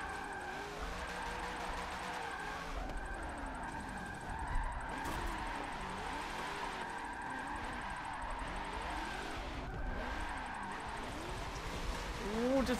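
Cars drifting in tandem in Assetto Corsa produce a steady engine drone with wavering pitch and tire squeal, moderately loud and continuous, while someone talks over it.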